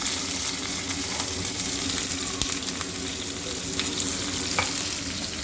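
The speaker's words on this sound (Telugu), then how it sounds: "ఈ ఉల్లిపాయలు గోల్డెన్ బ్రౌన్ కలర్ వచ్చినంత వరకు వేపుకోవాలి" Sliced onions sizzle and fry steadily in a pan for a dried fish curry, with a continuous close hiss and occasional light stirring clicks.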